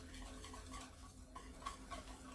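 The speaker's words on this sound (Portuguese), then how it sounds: "Aí aqui eu vou misturar bem aqui esse mix aqui de farinhas" A gluten-free flour mix is stirred together with baking powder in a bowl for an orange cake, giving soft, continuous scraping and swishing with light clinks of utensil against the bowl, close and quiet.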